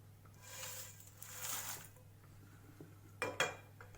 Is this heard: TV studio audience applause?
no